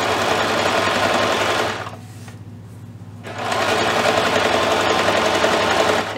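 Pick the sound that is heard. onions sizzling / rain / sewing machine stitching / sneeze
sewing machine stitching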